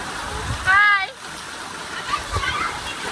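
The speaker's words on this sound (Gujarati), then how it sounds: "જો કેવું પાણી આવે છે." Floodwater from heavy rain rushes and splashes continuously close by while a person talks over it in short stretches.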